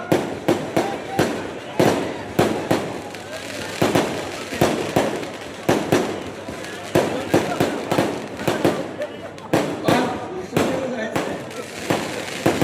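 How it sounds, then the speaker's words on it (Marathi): Firecrackers burst in a rapid, continuous series of loud sharp cracks, with crowd noise underneath, at a municipal election campaign rally in Sangola. "फटाके बंद करा, फटाके"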